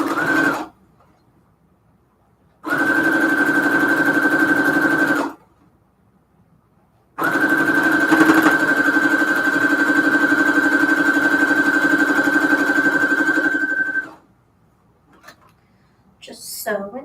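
Sewing machine stitching thin fabric scraps for string quilts, running in two sustained bursts of steady whirring separated by pauses, close and fairly loud, with no talking.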